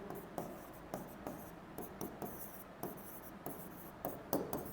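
Chalk or marker writing during a Class 10 maths lecture on quadratic equations: a steady run of short, scratchy strokes tapping out a quick rhythm of about two per second, close and fairly quiet, with no speech over it.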